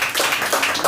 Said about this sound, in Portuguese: Aplaude Jesus.